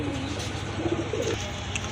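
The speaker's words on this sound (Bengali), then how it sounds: "এক জোড়া গিরিবাজ আছে এখানে অনেক বড় সাইজের কবুতর" Large Giribaz pigeons in a pigeon seller's collection coo softly in a few low, rolling bursts over steady background hum, fairly close.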